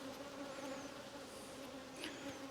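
Bees from a crowded, opened beehive hum in a continuous, steady buzz, with individual bees passing close now and then.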